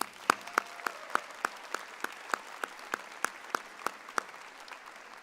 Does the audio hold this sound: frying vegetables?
no